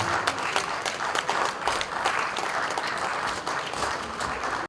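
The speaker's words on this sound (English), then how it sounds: "Please join me in welcoming him with a round of applause." Applause from attendees at a Nigerian private surveyors' association workshop and launch, a lively roomful of hands clapping steadily for a few seconds before cutting off abruptly.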